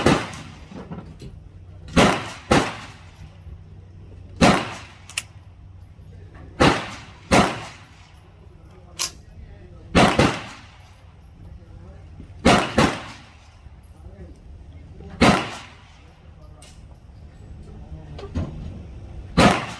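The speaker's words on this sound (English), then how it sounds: "going to go ahead and shoot 7 rounds" Sharp rifle shots from a Ruger 10/22, seven or so reports spaced a couple of seconds apart, loud and close with short decays and quiet outdoor background between them.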